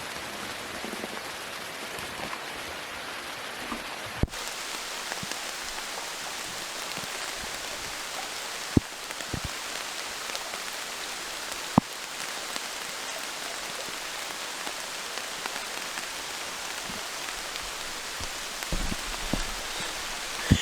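Light rain sprinkles over a damp campsite beside a steaming creek on the Manistee River Loop in Michigan, a soft continuous patter with a few sharp drips and taps, steady and fairly quiet, no talking.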